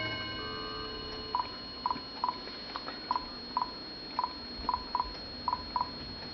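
A cell phone dialing a call gives about a dozen short, evenly pitched keypad beeps at irregular intervals over a faint steady tone, quiet and close.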